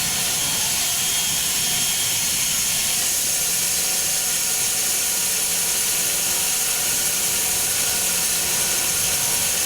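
A Cooks pallet resaw runs at full speed, a loud, constant roaring hiss of motor and blade cutting pallet boards, steady throughout with no talk.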